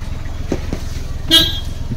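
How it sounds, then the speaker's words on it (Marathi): A car horn gives one short toot on arrival at a village house, sounding over the low rumble of an idling vehicle, with no talking. "हॉर्न वाजव म्हणजे घरातून बाहेर कोणीतरी येईल"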